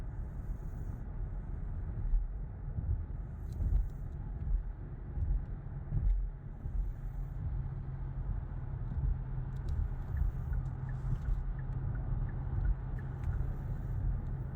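Inside a Kia EV6 Wind AWD electric car speeding up on a highway, a steady low road and wind rumble fills the cabin with faint ticks above it and no voices.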